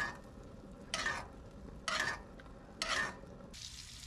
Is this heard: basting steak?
yes